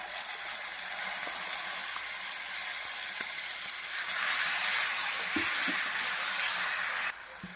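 Onion chutney tipped into a hot tempering with curry leaves in a pan gives a loud, continuous sizzling hiss that swells midway and then cuts off abruptly near the end.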